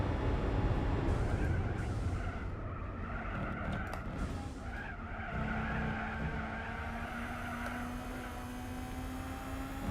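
Tires squeal from a yanked handbrake in Gran Turismo 4, a steady rising screech over a droning race-car engine that holds loud for the whole stretch without let-up.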